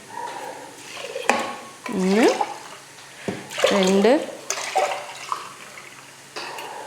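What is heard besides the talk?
water being poured into rice in a pot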